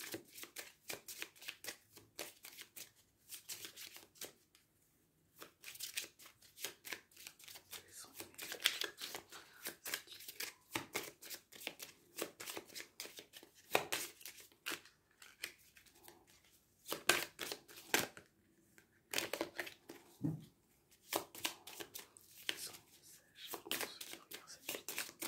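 Tarot cards shuffled and cut in repeated crisp riffles and slaps, near and fairly steady with brief pauses between bursts, and no voices over them.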